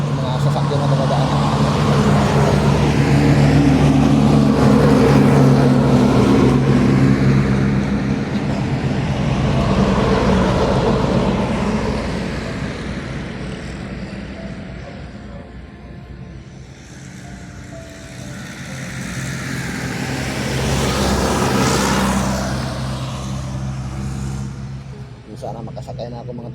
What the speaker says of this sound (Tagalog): Mga sasakyan na dumadaan.